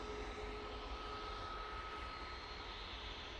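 A Malta Air jet airliner at Manchester Airport, its engines a steady, fairly faint roar with a thin whine running through it, unbroken and distant.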